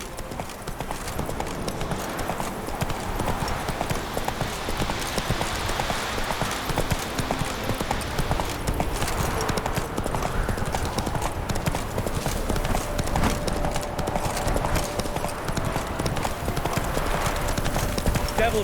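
In The Witcher 3 the horse Roach gallops in a fast, steady clip-clop of hooves that runs throughout, close and loud, with voices talking over it and a brief whinny.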